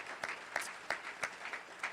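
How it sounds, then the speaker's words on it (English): Scattered audience applause at a faith gathering, a thin patter of claps with a few sharper accents, fairly quiet and brief, with no voices over it. "Give him a warm round of applause"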